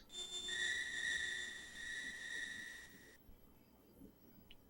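Synthesized crickets-at-night ambience in the video game Final Fantasy V: a steady, shrill, tonal chirring drone holds for about three seconds, then cuts off abruptly, leaving faint background hiss.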